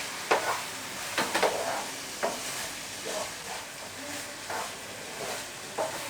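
Masala with coriander and Kashmiri red chili stirred in a pan, giving soft scraping strokes at an uneven pace over a low, continuous sizzle. Nearby and moderately quiet, with no one speaking.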